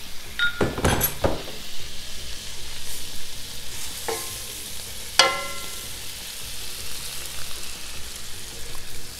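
Flour is stirred into a sizzling sauce in a pan for a creamy chicken and chard macaroni, with close scraping stirs and a couple of sharp utensil clinks against the pan over a continuous frying hiss.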